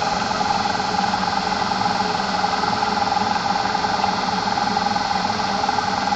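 A Duyunov electric motor with combined windings spins fast at around 1,070 to 1,080 rpm, giving a steady, even whine and hum throughout.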